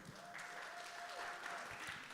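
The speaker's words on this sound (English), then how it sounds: "Round of applause" Audience applause at a poetry festival gathering, a steady wash of clapping from a crowd that fills the whole stretch, with a sustained tone running underneath for the first part.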